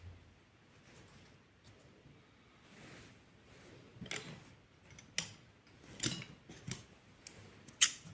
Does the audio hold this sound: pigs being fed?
no